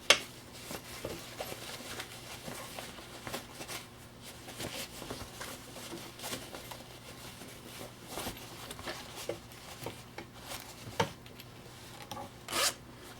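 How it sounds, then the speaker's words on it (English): Zipper on a homemade sewn fabric pencil case being drawn closed, a series of close rasping zips of varying length, with one longer pull near the end. "zip it up"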